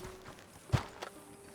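Horse hooves clip-clopping in the Red Dead Redemption 2 video game, two distinct hoof strikes about a quarter second apart over a low steady hum, fairly close, with no talking.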